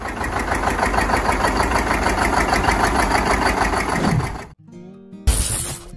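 A John Deere 730 tractor engine runs with a steady, loud mechanical chug and knock for several seconds, then cuts off abruptly before a brief burst of noise at the end.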